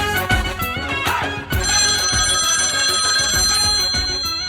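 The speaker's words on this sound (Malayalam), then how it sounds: "ആദ്യത്തെ കോൾ വന്നിട്ടുണ്ട്." A phone's ringtone plays as an incoming call arrives, a bright, repeating melodic tone with a steady pulse, loud and alone without any talk.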